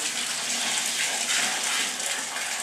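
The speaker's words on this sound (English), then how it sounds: "I'm going to pour some water in it." Water pours steadily into a bucket of gray thin-set tile mortar, a close, continuous rushing gush with no other sounds.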